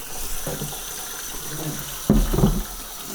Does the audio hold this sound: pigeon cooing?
no